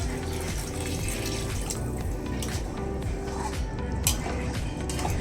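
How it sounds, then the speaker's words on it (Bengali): Hot water pours steadily into a pot of rice and lentils for khichuri, a continuous splashing, gurgling stream heard close and fairly loud for several seconds. "এই যে গরম জল দিয়ে দিচ্ছি।"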